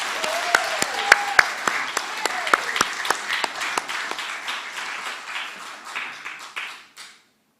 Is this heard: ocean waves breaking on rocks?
no